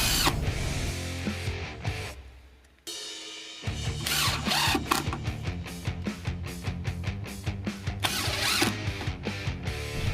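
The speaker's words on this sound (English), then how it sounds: "these screws can be easily installed with your impact driver" Impact driver sinking Simpson Strong-Tie collated connector screws into a double-shear joist hanger, loud rapid hammering bursts that run steadily, break off briefly, then resume in a series of sharp pulses, with no talking.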